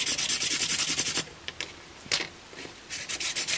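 Rhythmic hand sanding on wood, rapid back-and-forth rasping strokes, then a pause with a few scrapes before the steady rubbing resumes.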